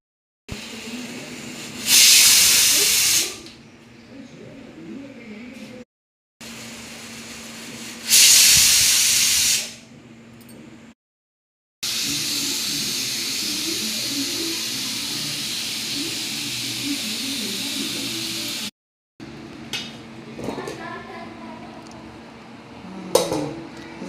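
A pressure cooker of soybean khichdi lets off loud bursts of hissing steam whistles, two short blasts followed by a long sustained hiss, then quieter sputtering steam near the end.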